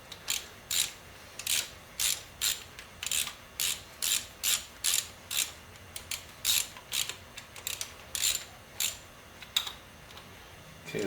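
A ratchet wrench tightening timing gear bolts on a Chevy 350 small-block engine during a rebuild, clicking in short rhythmic bursts of repeated ticks, close and clear with brief pauses between strokes.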